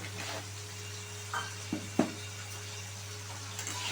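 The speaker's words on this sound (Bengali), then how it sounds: "সেই তেলের মধ্যে আগে থেকে সেদ্ধ করা আলুগুলো আমি দিয়ে দেবো" Boiled potatoes fry in hot oil in a pan, giving a soft steady sizzle with a low hum underneath, broken by a few spoon scrapes and stirring clinks.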